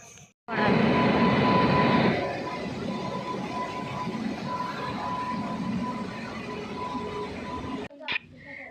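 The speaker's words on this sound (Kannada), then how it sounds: "ಈಗ ಟ್ರೈನು ಬಂತು" A train pulls into a railway station with a steady, loud rumble of rolling carriages. It is strongest in the first two seconds and then holds a broad, even roar until it cuts off near the end, with faint voices in the background.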